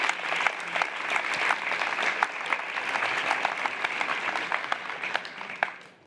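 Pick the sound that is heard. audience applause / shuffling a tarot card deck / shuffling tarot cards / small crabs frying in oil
audience applause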